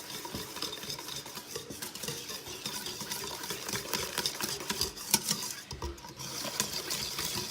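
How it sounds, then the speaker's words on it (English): Hand whisking of loose pumpkin roll batter with cinnamon and nutmeg in a bowl, a continuous close scraping and rattling stir that runs steadily throughout. "I like to whisk this by hand because this batter is a really loose batter"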